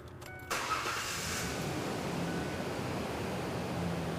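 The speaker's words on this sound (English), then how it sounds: "I'm going to start the vehicle." A car engine cranks briefly and catches, then settles into a steady, fairly quiet idle hum for several seconds, with no one talking.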